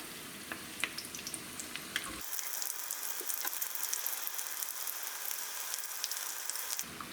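Chicken tacos frying in very hot oil, a steady bright sizzle that starts abruptly and holds at a fairly quiet level with scattered pops, no voices.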